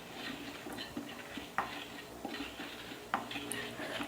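Drumstick leaves being stir-fried in a pan over a medium flame, making a steady soft sizzle with occasional faint clinks of a spatula against the pan.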